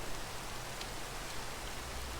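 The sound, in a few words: rain falling in video game Minecraft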